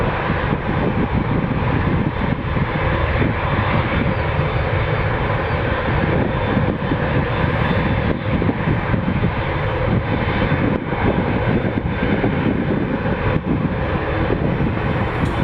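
An Air Canada Rouge Airbus A321 departs Toronto Pearson on its takeoff roll, a loud, steady jet engine roar that holds throughout at close range with no voices.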